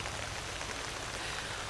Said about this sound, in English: it starts raining, so I have to head inside again